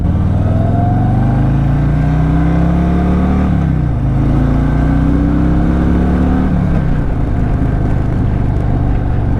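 A 2024 Harley-Davidson Fat Boy 114 engine revs up through rising pitches, dropping briefly between gears before climbing again, loud and close with constant wind and road noise.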